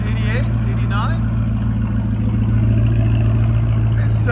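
A Ford F-250 with a 6.8L V8 and aftermarket exhaust idles with a deep, steady exhaust drone, and people talk briefly over it.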